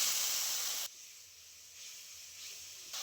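Water hits a hot pan of fried spices and turmeric, giving a loud, close burst of hissing sizzle that drops suddenly to a softer steady bubbling, then swells again at the end.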